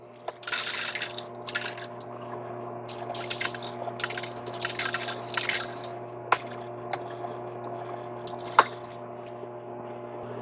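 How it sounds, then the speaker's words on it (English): A Cuisinart Mix It In soft serve ice cream maker (ICE-45P1) dispenses soft serve with mix-ins: a steady motor hum runs under irregular bursts of grinding and rattling, with a few sharp clicks. "So when you put the lever down, ice cream's gonna come out and it'll dispense the mix-ins the entire time."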